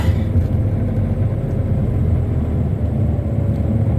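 A car pulls out of deep mud onto firmer ground, its engine giving a steady, loud low rumble that holds unbroken throughout with no talk over it.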